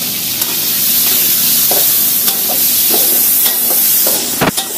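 Pad thai sizzles and hisses in hot oil at a street food stall, a loud steady frying roar broken by scraping stirs and clinks of a spatula against the pan, heard close up with no voices.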